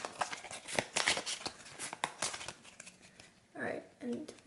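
Arkham Horror location cards shuffled by hand at a tabletop game, a run of crisp riffling and flicking bursts with softer paper handling at the end, close and fairly quiet.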